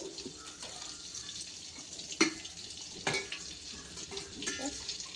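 Butter with a little oil sizzling in a pan gives a soft, steady crackle at low volume, broken by a few sharper pops and clinks.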